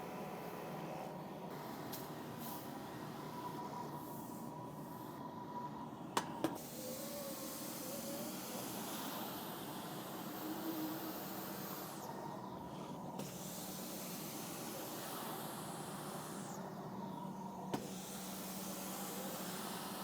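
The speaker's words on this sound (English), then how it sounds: "Turn on your vacuum motor, turn on your spray jet, and you can spray water." A walk-behind Bulldog floor scrubber runs with its vacuum motor and spray jet on, a steady broadband motor whir and hissing water spray, fairly faint and continuous, with a few brief clicks.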